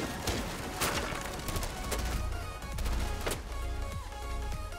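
Rapid bursts of gunfire crackle through a tense firefight in Rainbow Six Siege, suppressive shooting layered with impacts and dense game noise, loud and continuous.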